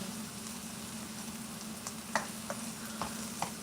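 Potatoes, pre-cooked in garlic salt water, fry in a pan with a steady close sizzle and a few light clinks or stirs near the end, no talking.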